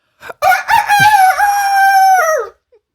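A person's voice imitating a rooster's cock-a-doodle-doo, one long crow of about two seconds with rising and falling pitch, close and loud, with a few short vocal sounds before it.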